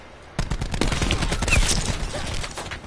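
Gunfire from a gun in Call of Duty Black Ops 4 erupts suddenly and loud, a rapid burst of shots continuing for a couple of seconds with no talk over it.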